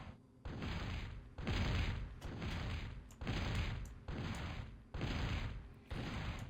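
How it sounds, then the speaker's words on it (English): Heavy artillery shots from leveler units striking missile towers in the strategy game Darkside, booming roughly once per second in a steady, repeating rhythm of loud, dense blasts. "And here come the leveler shots. Missile towers are generally pretty easy to hit."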